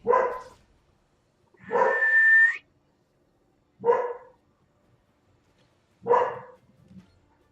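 A dog gives four separate close barks spaced a couple of seconds apart, the second one stretched into a longer whining yelp, with quiet gaps between.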